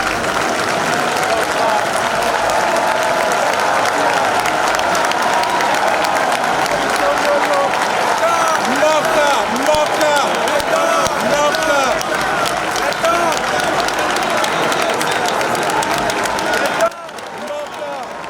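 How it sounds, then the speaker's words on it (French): Sustained thunderous applause from a large audience fills a ceremony hall as the supreme magistrate enters, dense steady clapping for about seventeen seconds before it abruptly drops away. "l'entrée dans la salle a provoqué un tonnerre d'applaudissements"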